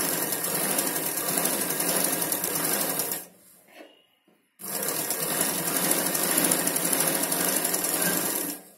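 Sewing machine stitching dress pant fabric for a Punjabi-style outfit, a loud, steady mechanical whir running continuously, briefly stopping for about a second midway, then resuming at full pace.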